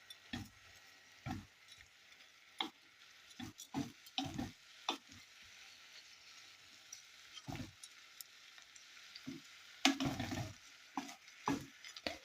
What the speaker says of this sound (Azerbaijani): Qarışdırırıq.